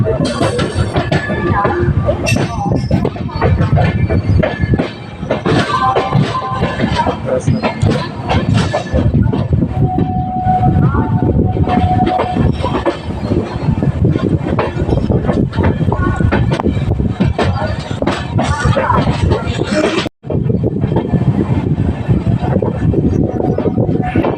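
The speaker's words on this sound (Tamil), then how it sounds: "வண்டி நடைமேடை ஒன்றில் வந்து சேர்ந்து விட்டது." A train rumbles and clatters steadily for a long stretch as it arrives at platform one of a railway station, loud and close, with voices talking over the mechanical noise.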